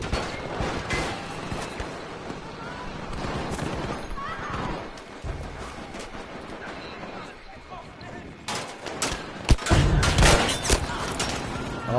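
Sniper gunfire in Battle Warriors Riot Squad, several sharp cracks spread across the stretch, the loudest bursts near the end, amid broad battlefield noise with a voice talking.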